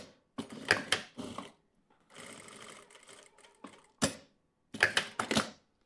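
A sewing machine runs in several short bursts of rapid stitching, closing the opening of a small fabric pouch, with brief pauses between runs and a longer steady run in the middle, close up.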